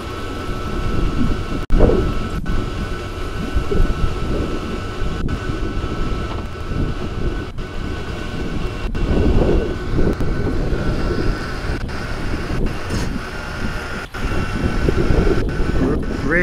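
Small wind turbine spinning in low gear in 12 V mode, a steady whirring drone under strong gusting wind noise, with faint regular ticks through the sound and no talk.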